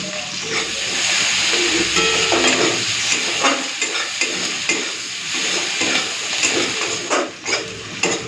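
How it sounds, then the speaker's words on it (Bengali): Onions fry in a pan with loud, constant sizzling and hissing, broken by frequent scraping and clinks of a spatula stirring them. "তো পেঁয়াজটা ভাজা হয়ে গেছে"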